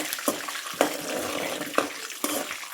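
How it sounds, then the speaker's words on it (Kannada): Chana dal and peanuts frying in oil over a low flame, a steady close sizzle broken by a few sharp crackling pops. "ಚಿಟಪಟ ಅಂತ ಇದೆ, ಯಾವುದ್ರಲ್ಲೂ ನೀರಿನ ಅಂಶ ಇರ್ತೇನೋ ಅನ್ನಂಗೆ."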